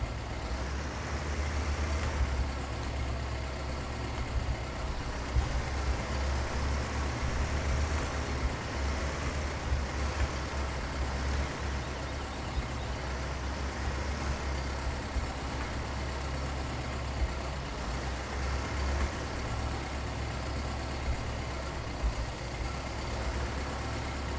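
A tractor engine idling in Farming Simulator 17, a steady low rumbling drone that holds constant and unbroken throughout, with no talking over it.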